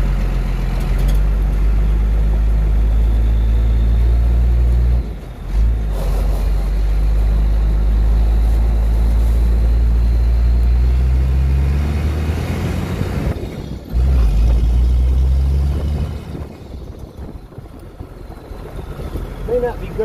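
A 1975 International truck with a 12-valve diesel swap and a faulty VE injection pump drives along, its engine droning loudly with gear-change dips and revving, cab noise and rattles throughout.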